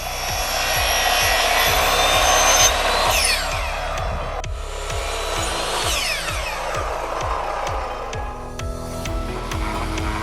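Leftover wood pieces being cut to length for a shelf with a power saw, a steady loud motor whine with repeated cutting passes and sweeping pitch changes throughout, with no talking.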